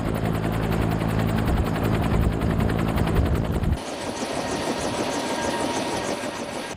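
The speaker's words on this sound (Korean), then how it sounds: "드디어 코브라 헬기가 지상에서 발걸음을 떼려고 한다." A Cobra attack helicopter of an army attack-helicopter battalion lifts off, its loud, close rotor thump and turbine whine filling the air steadily, with the pitch and texture shifting partway through as it climbs.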